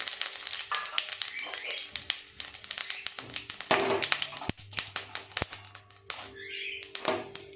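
Two small bay leaves, a dried chili and half a spoon of cumin crackle in hot oil, sputtering close by in sharp irregular pops and ticks, with a steady hum underneath.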